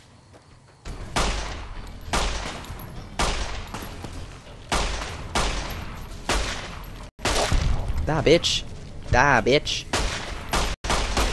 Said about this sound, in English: full automatic fucking pistol right here